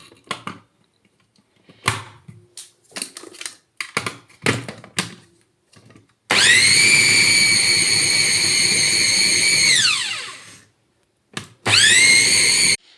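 An electric blender mixing a drink with orange runs loudly for several seconds, winds down with a falling pitch, then starts again briefly, preceded by scattered clicks and taps.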